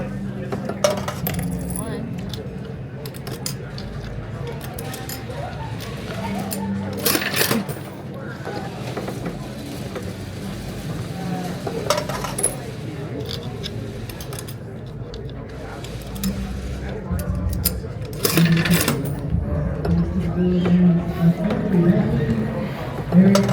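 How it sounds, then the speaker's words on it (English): A pressed penny machine in Santa Fe is cranked by hand, with repeated mechanical clicks, clunks and metallic ticks in irregular bursts, close up, while people talk throughout. "Let's start cranking some pennies."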